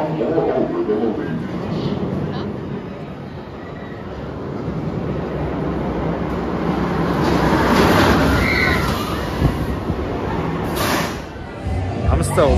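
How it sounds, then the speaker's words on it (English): A train rumbles into a station with rising clatter and hiss of rail noise, loud and nearby, after a platform announcement, while people talk over it on a cold, dark evening. "The train is rapidly approaching the station."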